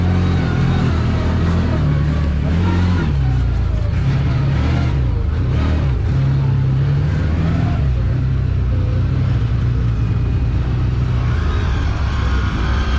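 Side-by-side UTV engine straining to climb snow in two-wheel drive, a loud continuous drone with revving swells and wheel-spin roar throughout, engine pitch shifting as the throttle rises and falls.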